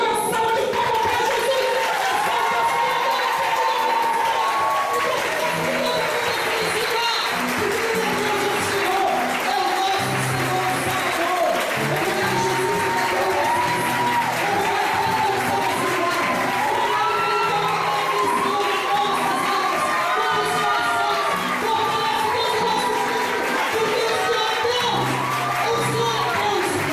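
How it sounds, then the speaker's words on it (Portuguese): A church crowd at a charismatic prayer seminar claps and cheers in praise of Jesus, a loud, sustained mix of applause, shouts and voices lasting throughout. "Dê uma salva de palmas para Jesus"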